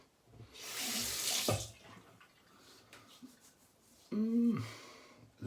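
A bathroom tap runs briefly into a sink during a straight razor shave, a near hissing stream for about a second, then quieter handling sounds.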